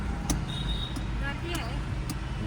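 Car traffic on a crowded road on the route from Bhiwandi to Trimbakeshwar, a steady engine and road rumble with faint passing vehicles, heard from inside a car while people talk.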